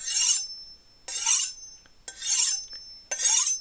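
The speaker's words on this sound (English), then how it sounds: "You basically take your knife and you run it away from you with a rod pointing away from you as well" Wusthof chef knife drawn along a honing rod, away from the body: four even, close rasping strokes about a second apart, each a bright steel-on-steel scrape with a faint ring, and no voices.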